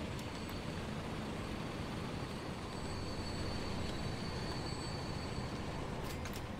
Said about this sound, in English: Oh, look, that coal train's going past him now